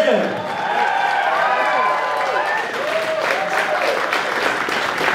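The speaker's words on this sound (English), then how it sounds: "How about a big round of applause for the newlyweds?" A crowd at a wedding reception applauds and cheers for the newlyweds, a steady wash of clapping and loud whoops sustained for several seconds, with voices shouting throughout.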